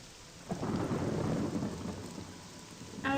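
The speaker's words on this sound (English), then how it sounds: "And the storm is loud too." A thunderstorm in the video game Morrowind, where a loud rumble of thunder rolls in and slowly fades over steady rain, with another sharp crack starting at the end.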